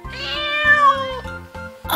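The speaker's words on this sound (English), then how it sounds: "Wow! Kitten." A kitten gives one clear, close meow that rises and then falls, followed by a short chirp at the end.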